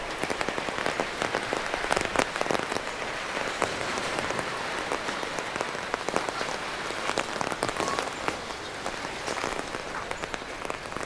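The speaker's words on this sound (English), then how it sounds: "And here comes the rain." Rain falls on a city street in Chiang Mai, Thailand, during the rainy season, a dense, steady hiss of drops spattering on surfaces with no voices, holding an even level throughout.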